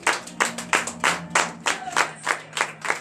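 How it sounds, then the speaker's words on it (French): Rhythmic group clapping from a church congregation at a morning prayer service in Benin, about nine steady claps in three seconds, close and clear, with no talking. "Donnez de vives acclamations à l'Éternel."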